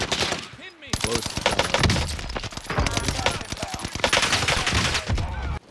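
Rapid bursts of automatic gunfire and single shots in the battle-royale shooter Warzone, loud and close, crackling in dense volleys across the whole stretch with brief gaps.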